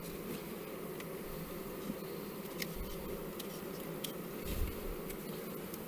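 Honey bees buzzing around an open hive, a dense continuous drone close by with occasional louder individual bees passing and small clicks, no voices.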